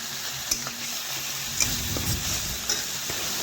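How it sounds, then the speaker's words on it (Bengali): Spices fry in hot oil in a pan while being stirred for a fish-head and potato curry, giving a steady sizzle broken by a few sharp scraping knocks of the spoon. "আর এই দেখুন তেলের মধ্যে দিয়ে আমি একটু নাড়াচাড়া করে একটু মশলাটা ভেজে নিচ্ছি।"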